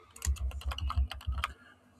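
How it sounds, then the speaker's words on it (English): Rapid typing on a computer keyboard, a quick burst of close, crisp key clicks lasting about a second and a half, then quiet. "I'm just typing Emma's 21st birthday,"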